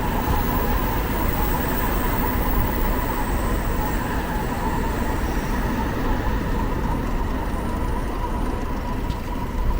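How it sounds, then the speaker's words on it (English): A Shinkansen bullet train passes at night through a residential neighborhood near Tokyo Tower in Azabu, Tokyo, producing a steady, loud broadband rumble and rush that fills the whole stretch without pause. "So that sound of the Shinkansen right now, so that is the noisiest thing in this neighborhood."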